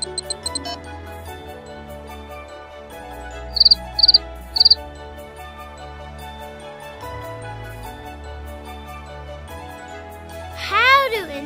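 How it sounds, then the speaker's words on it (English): A few short, high chirps sound against a background of steady music, followed near the end by a louder sweeping call. "Cricket."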